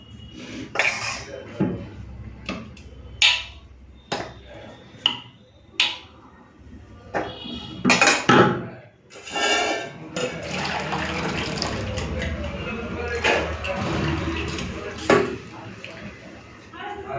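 Boiled potatoes scooped out of a pot of cooked dal with a metal spoon, a series of sharp clinks and scrapes against the pot followed by wet sloshing, with someone talking throughout.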